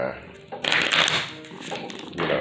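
A deck of Orisha tarot cards is shuffled close up, with a burst of riffling and soft flicking that fades and returns, while a person talks over it.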